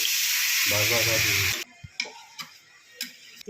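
Water poured into a pan of frying jackfruit and prawn curry gives a loud, hissing sizzle that cuts off abruptly, followed by a few faint clicks and taps of utensils.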